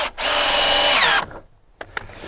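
A power drill whirs loudly for about a second as it drives a screw in, followed by a couple of short clicks and handling knocks.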